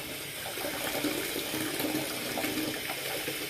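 Burning hot water runs from a tap into a bath, a steady close rushing splash that continues unbroken with no voices.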